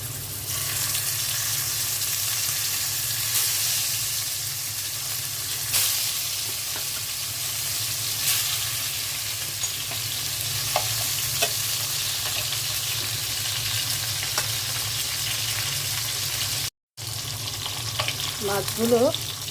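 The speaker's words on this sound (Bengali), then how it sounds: "এখন আমি মাছগুলো ভেজে নিব।" Fish fries in a pan of hot oil, making a loud, continuous close-up sizzle with scattered crackles and some stirring or scraping, broken once by a short silence before the sputtering resumes.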